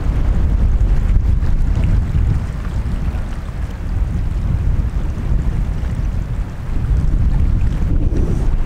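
Strong wind gusting across an open shoreline at Elafonisi beach, Crete, a loud, steady roar buffeting the microphone with low rumbling throughout, alone without voices.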